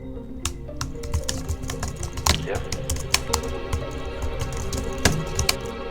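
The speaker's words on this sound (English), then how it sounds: "You grab your keyboard and pull it towards you, and you begin to type." Fast typing on a computer keyboard clatters steadily with sharp individual key clicks over a dense background of music or room noise, and a voice speaks briefly.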